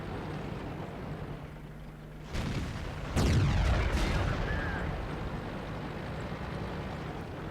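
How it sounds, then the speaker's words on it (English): Artillery fire in World of Tanks: a couple of heavy booming blasts with rumbling low tails, loud and fairly close, over a steady background engine drone. "their artillery is giving us a damn good kicking"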